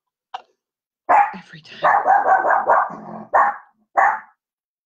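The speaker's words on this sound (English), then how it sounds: "every time I push the go live button, my dog starts barking" A pet dog barks several times, in short loud bursts near the microphone, as someone arrives home, with someone talking briefly between the barks.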